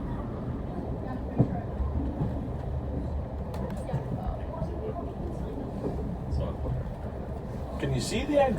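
From the cab on the Dufftown to Keith line, a four-carriage train rumbles steadily along the track at moderate loudness, with occasional clunks.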